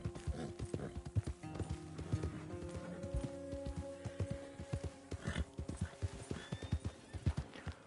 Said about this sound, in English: Call the horse to get its attention.